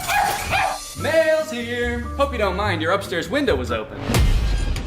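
A voice imitates a dog, barking and yipping between short spoken lines, close and clear.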